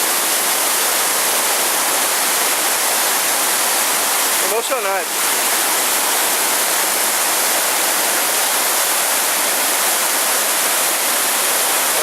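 Cachoeira dos Padres waterfall in Alto Araguaia, Mato Grosso, roars as a loud, unbroken wash of rushing water, with one brief spoken exclamation partway through.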